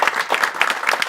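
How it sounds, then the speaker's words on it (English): A brief burst of crowd applause at a conference opening session, a short spell of mixed clapping from the audience. "So maybe we can just give a round of applause for this."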